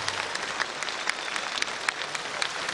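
Audience applause for a singer at a music festival concert, a steady dense clapping from a crowd with scattered sharper claps throughout, no talking.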